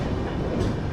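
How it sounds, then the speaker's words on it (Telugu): Aboard the Tirumala Express, 18522, just out of Kadapa, a steady low rumble of rolling carriages and wheels on track fills a brief stretch without voices. "మన ట్రైన్ కడప నుండి అయితే బయలుదేరిపోయింది."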